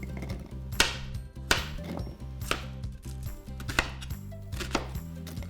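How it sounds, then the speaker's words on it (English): Celery chopped with a knife into giant pieces on a cutting board, about eight sharp, close, evenly spaced chops over a faint steady background hum, no talking. "Starting with the celery, just cut it into giant pieces."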